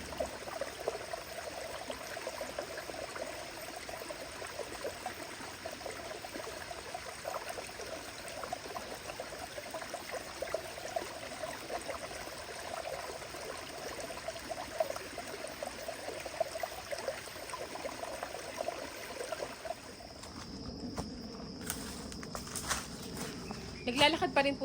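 A small stream near farmland in Tanay, Rizal, flows with a soft, continuous trickle and wash, fairly faint and steady, with scattered footsteps and rustling near the end as someone walks on.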